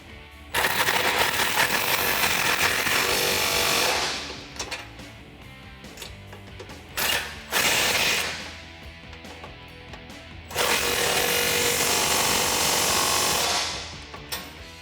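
A power driver with an 18mm socket runs up bolts on a Jeep Gladiator JT front bumper in three bursts, each several seconds long with a whirring ratchety buzz, separated by quieter pauses and a brief blip.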